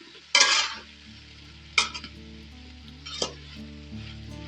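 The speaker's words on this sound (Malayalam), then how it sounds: "അരപ്പ് ഇതിലേക്ക് ഇടാം ഇട്ടിട്ട് നന്നായി ഇടക്കി കൊടുക്കാം" Kerala avial vegetables with ground coconut paste are stirred in a pan, with three distinct scraping strokes at steady intervals over a low background sizzle, close and fairly loud, no talk.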